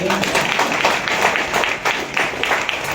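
Steady, dense clapping from an audience at a Tamil literary festival event, continuous and moderately loud throughout, with no clear pauses.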